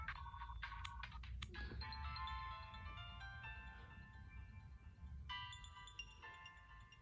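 A default Android phone ringtone plays as a bright, melodic electronic tone sequence, repeating its phrases over several seconds at low volume against a constant low hum.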